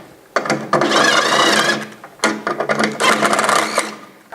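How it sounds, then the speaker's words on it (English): A cordless screw gun drives screws into a refrigerator panel while a defrost thermostat is replaced on a Santa Fe Classic unit. There are two loud, close bursts of whirring motor, each lasting over a second, separated by a short pause. "We'll take our screw gun again and tighten everything down."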